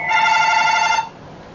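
A telephone ringing once, a bright bell-like trill lasting about a second at close range before it stops, leaving a quiet room tone.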